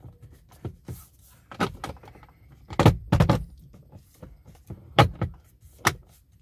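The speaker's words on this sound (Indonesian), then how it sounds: "ini untuk membuka laci. Keras juga ternyata." A few clicks and clunks of a 2023 Ford Everest Titanium glovebox drawer latch being worked open, stiff and close up, with short pauses between the sharp knocks.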